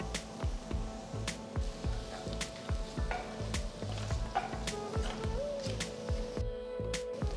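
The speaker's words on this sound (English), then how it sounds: "add a few curry leaves." Curry leaves sizzle in a pan of golden fried onions for a Kerala-style chicken curry, giving a steady, soft frying hiss under rhythmic background music.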